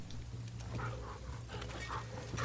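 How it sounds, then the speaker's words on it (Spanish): Within the video game The Last of Us Part II, a dog pants steadily in quick, breathy bursts, close and fairly loud over a low ambient hum. "No he traído chuches para ti, perrito."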